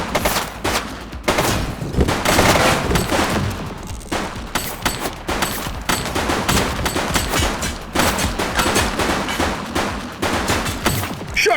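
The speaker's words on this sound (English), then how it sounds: "Shots fired!" Gunfire in the video game The Precinct, sustained heavy bursts of rapid shots and loud cracks filling the whole stretch, close and dense with barely a pause.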